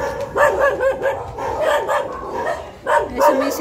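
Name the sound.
dogs barking at visitors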